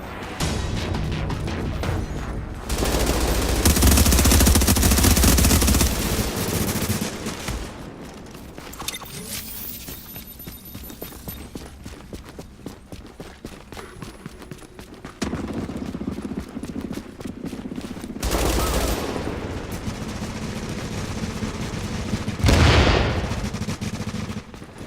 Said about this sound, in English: The fortification is under fire.